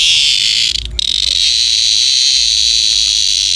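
Loud, steady high-pitched buzzing call of a mountain beetle being handled, a continuous electric-like drone with a brief dip near the start, no talking.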